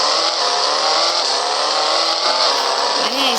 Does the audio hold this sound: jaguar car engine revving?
yes